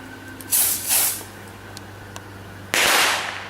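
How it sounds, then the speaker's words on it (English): Fireworks set off at a house: sharp hissing bursts and small pops, one after another, fairly close and loud against a faint background hum. "here with this guy who's gonna be lighting up fireworks"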